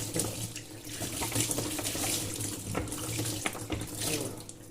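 Tap water running steadily into a sink while a non-removable waffle iron plate is rinsed, continuous splashing hiss with small spatters and clinks, moderate level, no talking.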